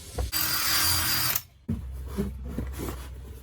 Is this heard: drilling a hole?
yes